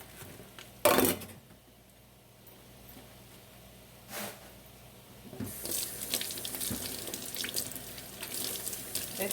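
Tap water runs into a kitchen sink as vegetables are rinsed off under it for homemade chicken soup, with a sharp splash near the start, a brief burst midway, then a steady, louder gush of running water to the end.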